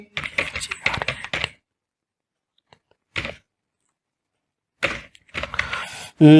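Keys clatter in quick bursts as a place name is typed into an online West Bengal SIR registration form, with a pause and then a few more rapid keystrokes; a brief voice is heard near the end.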